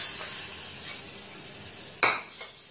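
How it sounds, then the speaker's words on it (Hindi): Hot sizzling tempering poured into chutney makes a steady, close frying hiss, broken near the end by a sharp metallic clink of a utensil against the pot. "तड़के में से थोड़ा सा चटनी में भी डाल देंगे"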